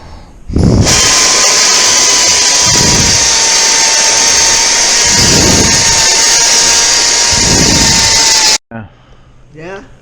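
A power tool grinds loudly and continuously into a fractured aluminum part on a 1989 KX250 restoration before welding, its high whine swelling and easing in a slow rhythm before cutting off, followed by a few quiet spoken words.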